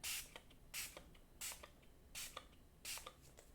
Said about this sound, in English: and lightly spray all of our rings.